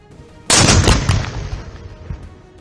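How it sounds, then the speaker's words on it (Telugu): Seized bombs detonated one by one at a distance: a sudden loud blast that booms and crackles, then rolls away in a long fading rumble with scattered pops. "దూరం తీసుకుపోయి ఒక్కొక్కటి వేల్చి పారేస్తుండ్రు"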